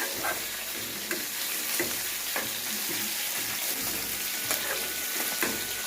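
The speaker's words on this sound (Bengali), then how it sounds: "তো এটাকে আমি একদম গোল্ডেন ব্রাউন করে ভেজে নেবো" Chicken pieces frying in hot oil until golden brown, a steady dense sizzle with periodic stirring scrapes and clinks, close and continuous with no talking.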